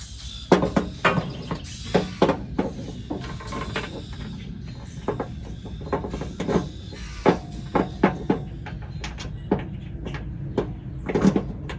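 Bolts are driven into metal on a Toro zero-turn mower spindle and pulley assembly, cutting their own threads, with repeated sharp clanks and knocks in an irregular rhythm, close and fairly loud.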